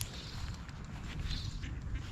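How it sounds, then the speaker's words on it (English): Ducks and geese quacking at a pond, a low, steady, close-up rumble of noise with a few faint higher calls mixed in, heard without talking. "Got duck and geese central here."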